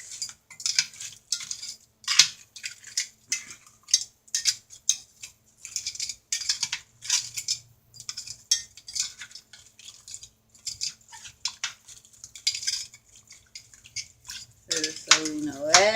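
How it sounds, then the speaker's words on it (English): Metal tongs toss crab boil seafood in a pot or bowl, giving repeated light clinks, clatters and wet slaps in irregular bursts, near and moderately loud. "And then I'm going to use my tongs and just toss."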